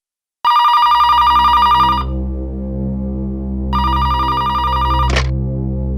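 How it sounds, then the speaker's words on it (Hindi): An old-style telephone bell rings loudly in two bursts with a pause between, over a low hum. "फोन उठाना है प्लीज।"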